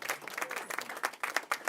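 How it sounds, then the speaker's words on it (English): Applause from an audience at a public ceremony for the signing of Florida's first tenant bill of rights: brisk, dense clapping that continues steadily, with no speech over it. "That deserves a round of applause."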